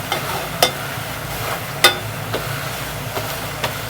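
Ground meat sautéing in a pan for palabok, a steady close sizzle punctuated by several sharp clinks of a spatula or spoon scraping the pan.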